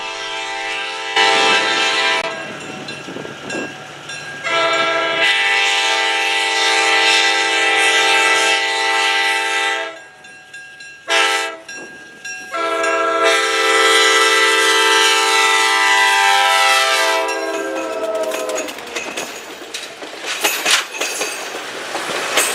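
An excursion train with vintage railroad cars, one built in 1942 by the St. Louis Car Company, on an Ohio line, sounds its horn in long loud blasts, with a short break midway, over the rumble and clatter of the passing cars.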